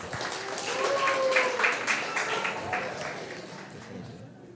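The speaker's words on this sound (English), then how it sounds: "So please, let's give a round of applause for Ricardo." An audience claps for Ricardo Cividanes at a school TED-Ed talk event given by 11th grade students. The applause is a steady, moderate wash of claps lasting several seconds, with some voices mixed in, before it fades out.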